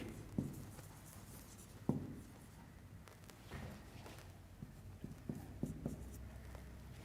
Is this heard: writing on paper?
yes